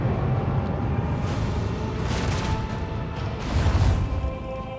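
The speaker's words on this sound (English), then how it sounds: "let's take the slightly hurt one out with the dorsal cannons" Dorsal cannons in Rogue Trader fire at a ship, heavy rumbling booms rolling in two or three swells over a dense low roar, with no talking.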